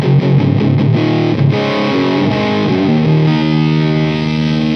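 Electric guitar played through a cheap fuzz distortion pedal, heavily saturated chords and notes ringing loud and sustained, with a few quick strums at the start followed by held tones.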